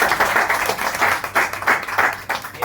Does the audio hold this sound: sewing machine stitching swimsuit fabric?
no